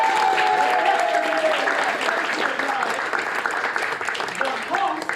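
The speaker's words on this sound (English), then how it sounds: "Let's give a round of applause to our players." An improv theatre audience claps for the players, a dense, loud burst of applause filling the whole stretch while a voice speaks over it at the start.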